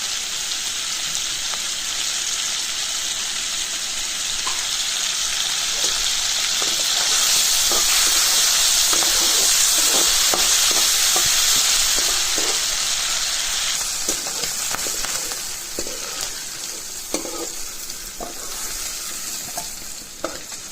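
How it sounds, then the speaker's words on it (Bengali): Shrimp fry in a pan with turmeric and salt, giving a loud, close, steady sizzle and hiss that swells in the middle and is broken by scraping stirs and small pops near the end. "চিংড়ি মাছটা একটু হলুদ আর নুন দিয়ে ফ্রাইটা করছি"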